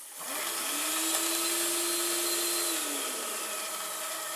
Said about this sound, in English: Yeah, someone's currently using the vacuum cleaner.